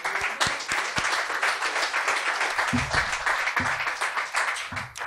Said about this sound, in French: donnez-leur une bonne main d'applaudissement parce qu'ils sont fantastiques